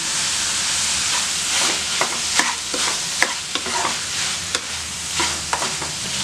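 Mutton fat roasting in a little oil in a pan, giving a steady, dense sizzle and hiss broken by occasional sharp spatula taps and stirs, close and fairly loud, with no talk.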